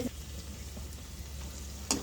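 Vegetables sizzle in hot oil while frying to a brown colour for ivy gourd roti pachadi, a steady soft crackle throughout with a brief louder clink near the end.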